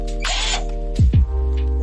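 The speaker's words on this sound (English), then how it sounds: "I like to use my electrical drill" An electric drill whirs in short bursts while drilling an aircraft structure, a close, loud motor whine that starts, stops and spins up again over a steady low hum.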